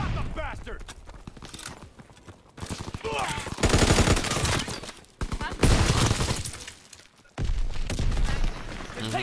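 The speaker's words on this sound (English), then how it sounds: "Enemy fire!" Rapid gunfire and bursts of automatic weapons in Call of Duty WWII, loud and dense with sharp cracks and shattering impacts in waves, voices shouting beneath the din.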